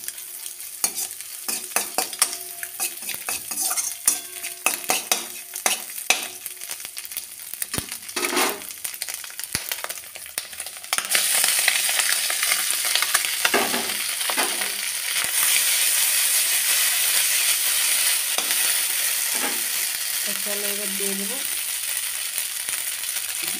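Maggi-style noodles stirred and fried with masala in a pan, a steady sizzle with scraping and clinking of the spatula, growing louder and denser partway through, with no talking.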